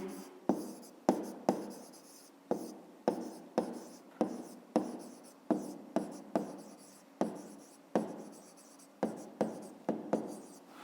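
A pen scratches on paper in repeated short strokes, writing out a 5th-grade maths answer by hand, close and steady with brief pauses between strokes.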